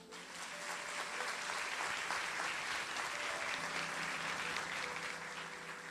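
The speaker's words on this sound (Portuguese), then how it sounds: "uma boa salva de palmas, não é?" Applause from a Sunday church congregation at a Baptist service, a steady wash of many hands clapping throughout, moderately distant with faint tonal background hum.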